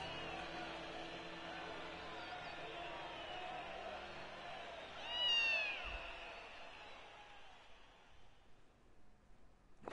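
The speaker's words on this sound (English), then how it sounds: "He's got a cat on his shoulders." A cat meows once, loud and close, in the .Hack//G.U. Last Recode game, over steady game sound and a talking voice.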